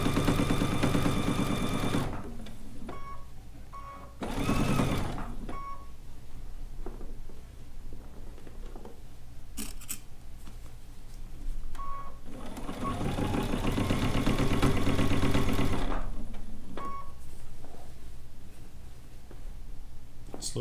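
A sewing machine stitches the seam of a fabric bucket hat, running in several quick bursts of close, rapid needle chatter separated by short pauses and quieter stretches.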